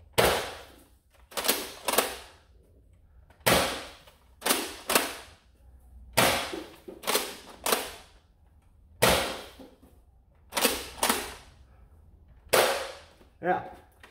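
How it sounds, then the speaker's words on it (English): A Nerf Overwatch Reaper toy blaster is primed and fired over and over, each trigger pull giving a sharp plastic snap, often in quick pairs, close and loud with short pauses between shots. "It's a very smooth trigger pull."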